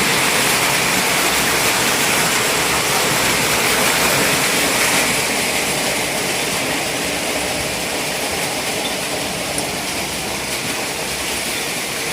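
Floodwater rushes loudly and continuously across a road washed out by heavy rain on the way to rice fields, a dense steady roar with no voices.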